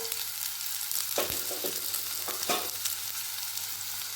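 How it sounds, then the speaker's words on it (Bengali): Chopped large onion and ginger frying in hot oil in a pan, a continuous close sizzle broken by several sharp scraping stirs, with no talk. "তেলটা গরম হয়ে গিয়েছে, তাই এখন আমি এর মধ্যে দিয়ে দিচ্ছি একটা বড় সাইজের পেঁয়াজ টুকরো টুকরো করে কেটে।"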